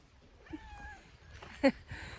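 A cat meows softly nearby, a drawn-out mew followed by a short, sharper chirp, with quiet background between.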